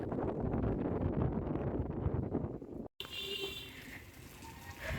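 Strong wind after a night of rain buffets an open window, a loud steady rushing roar with broadband gusts that pauses briefly mid-way and resumes slightly thinner, with no talk.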